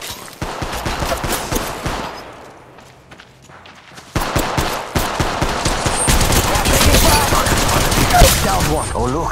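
Rapid automatic gunfire in the mobile video game Apex Legends Mobile, dense bursts of shots with a brief lull, then sustained loud firing resuming, mixed with other game sounds.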